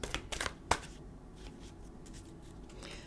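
A few quick riffling snaps of tarot cards being shuffled, crisp and close, followed by a quiet pause with soft handling noise.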